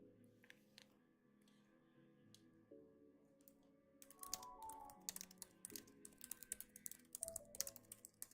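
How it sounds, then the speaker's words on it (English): Quick clicks on a computer keyboard, faint and fairly close, begin sparsely and pick up into a busy run of keystrokes over a low background hum. "it's working because I can hear myself typing"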